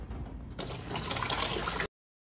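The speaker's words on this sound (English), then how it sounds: "So here's my pre-mixed manure slurry. And I'm just gonna load that in here a few times." Pre-mixed manure slurry pours into a jug for a small batch biodigester, a thick gushing rush that starts softly, swells into a loud, steady pour for over a second, then cuts off abruptly.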